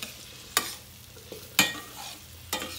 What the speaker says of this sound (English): I like when the thyme is kind of fried in the oil a little bit